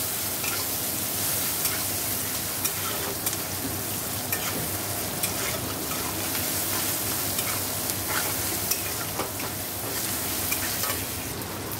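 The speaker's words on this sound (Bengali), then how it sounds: "ভালো করে কষিয়ে নেবো মশলাটা" Cumin and coriander spice masala frying in a pan, a steady dense sizzle with faint stirring scrapes running throughout.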